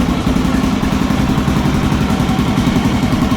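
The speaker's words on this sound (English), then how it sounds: "That motor sounds really good." A 1984 Honda XR500 motorcycle engine runs steadily nearby, its single-cylinder thump pulsing in an even, close idle with light mechanical clatter and no talking.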